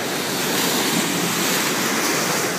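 Ocean waves on Chin Beach, a steady, loud broadband roar of surf with wind noise, continuous and close with no talking.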